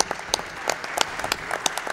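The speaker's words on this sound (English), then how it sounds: "Yeah, you can clap for that." An audience at a Summer Games Done Quick speedrun marathon claps briefly during a Dark Souls run, a short burst of scattered, fairly faint applause with distinct individual claps.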